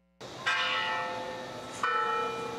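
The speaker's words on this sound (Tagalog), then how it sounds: "tumunog na ang kampana" Bells of the Basilica Minore del Santo Niño in Cebu ring after Mass, two clear resonant strikes about a second and a half apart, each leaving a long humming tone that lingers.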